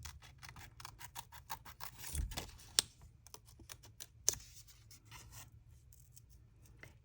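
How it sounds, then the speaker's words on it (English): Paper is flipped and cut with scissors at a table, producing a quiet, irregular series of soft rustles, rubbing and snipping with a couple of sharper clicks, close by and without talk. "He is attracted to the sounds of paper flipping and cutting"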